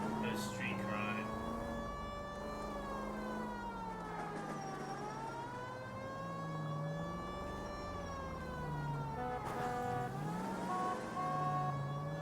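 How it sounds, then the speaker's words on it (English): Police car siren in the LA Noire video game, a wailing tone rising and falling steadily throughout with an engine rumble underneath, moderately loud and continuous. "Okay, you heard my siren, right?"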